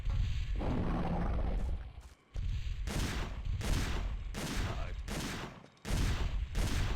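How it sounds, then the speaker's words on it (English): Dylan's gun in the video game Dino Crisis 2 fires in several loud, close bursts of rapid shots, with brief gaps between volleys. "as Dylan's walking back there and firing his gun"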